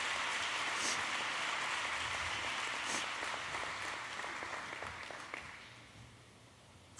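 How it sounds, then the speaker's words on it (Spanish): A congregation claps during a Spanish-language sermon, a moderate patter of hands that thins and fades over the last seconds, ending in near quiet. "Dale un buen aplauso a Dios"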